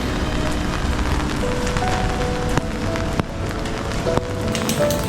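Steady rain falls on a Tokyo street, a dense continuous hiss with scattered sharper drops and faint background tones, fairly loud and close throughout.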